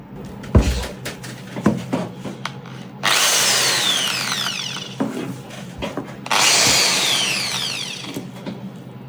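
A WADFOW 650W impact drill (WMD15651) whirs loudly and close up in two sustained bursts of a few seconds each. Handling clicks and knocks come before and between the bursts.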